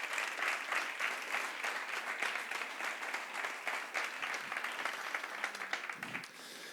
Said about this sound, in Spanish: Un aplauso muy fuerte por lo que se está recuperando en recuperación